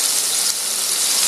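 Foie gras sauce flambéed with Armagnac in a pan gives off a steady, bright hissing sizzle that stays even and close for its whole short length, with no voices.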